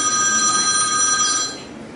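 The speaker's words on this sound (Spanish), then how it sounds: "suena un teléfono" A telephone rings with a bright electronic multi-tone trill, loud and close, sounding alone for about a second and a half before cutting off.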